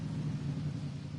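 A motorbike engine in the video game Ghost Recon gives a steady, deep rumble that holds at an even level throughout, with no voices over it.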